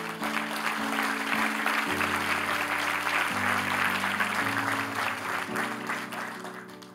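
A church congregation applauds together in a continuous, sustained round of clapping that holds at even loudness for several seconds, with a low musical tone sounding underneath.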